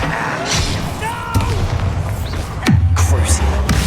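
The Confringo fire spell in Hogwarts Legacy goes off as a string of sharp, booming blasts with heavy low thuds, close and loud, over combat voices and battle noise.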